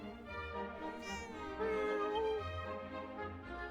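A cat meows in the Dragon Quest VII Reimagined video game, drawing out one clear, fairly faint meow with gliding pitch over soft background music.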